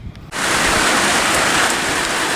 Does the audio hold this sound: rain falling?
yes